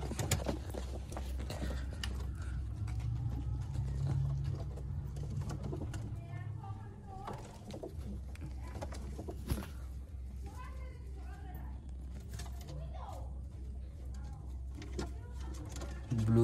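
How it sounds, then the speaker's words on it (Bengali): Madras pigeons of good quality, blue-marked birds, cooing in low repeated bursts under a steady background, with people talking nearby. "কালদমের মধ্যে আছে পায়রা, খুব ভালো কোয়ালিটির পায়রা"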